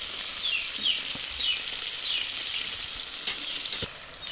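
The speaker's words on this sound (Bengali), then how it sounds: "মশলাটা ভালো করে কষিয়ে নিব" Garlic and ginger paste frying in a pan for a chicken curry gives a steady, close, bright sizzle, with a few soft stirring knocks toward the end.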